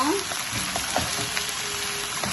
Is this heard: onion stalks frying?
yes